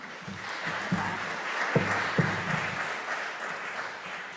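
Applause from a church congregation for the organizers of its yearly auction, a steady wash of many hands clapping in a hall that holds evenly for several seconds, moderately loud.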